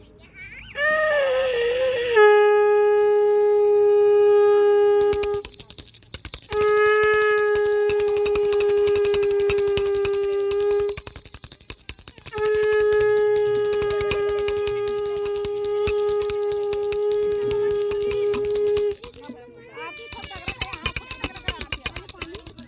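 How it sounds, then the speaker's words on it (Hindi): A conch shell is blown during a Karva Chauth ritual with women offering water to the sun, sounding in long sustained drones broken by brief pauses, loud and near, with people talking around it. "ताई बजाए शंख। हाँ बजा।"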